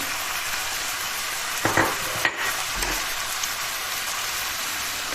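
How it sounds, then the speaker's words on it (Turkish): Onions and garlic sauté in olive oil with a steady crackling sizzle, broken by a few clattering stirs and scrapes of a utensil in the pan midway through. "Birlikte güzelce kavuralım."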